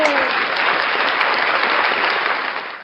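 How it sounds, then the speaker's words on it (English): A live audience at a comedy show applauds the Backyard Buffet with loud, continuous clapping for nearly three seconds before it cuts off sharply. "round of applause for the Backyard Buffet"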